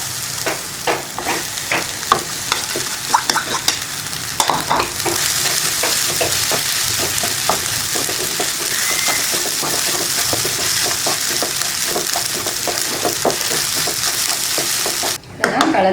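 Raw mango rice stirred in a hot pan, the spoon scraping steadily against the metal while oil sizzles continuously underneath; loud and close, with a sharper clatter near the end.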